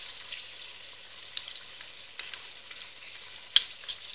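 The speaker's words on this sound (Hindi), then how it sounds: "अब इसका मसाला भुनेंगे" Spices for egg curry roasting in a pan with garlic, ginger and chilies, giving a soft, steady hiss of frying with scattered crackles and pops, close and fairly quiet.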